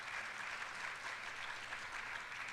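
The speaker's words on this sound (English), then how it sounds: "Give them a round of applause for doing this today" An audience at a dementia caregiving event applauds in a soft, distant, continuous wash of clapping that stays even and low across the short stretch.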